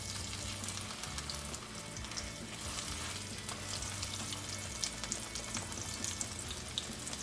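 A pinto bean patty sizzles steadily in a hot frying pan, a continuous crackling hiss with soft pops and no talking.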